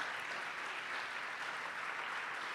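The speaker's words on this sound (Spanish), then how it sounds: "Le das un aplauso a Dios en su casa por eso" A church congregation claps together during a sermon, a brief, even burst of applause at moderate distance with no speech over it.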